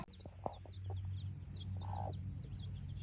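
A hen clucks on open pasture, soft repeated clucks with a few higher chirps, fairly close, over a steady low background hum.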